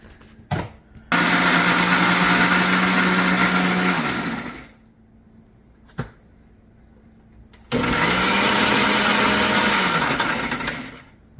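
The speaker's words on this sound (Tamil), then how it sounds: "செஃப் எல்லாம் ரெடியாக இருக்கு அரைக்கிறதுக்கு" A mixer grinder whirring through spices including poppy seeds: a brief blip, then a loud high-pitched motor run of about three seconds that winds down, a click, and a second run of similar length, close and alone.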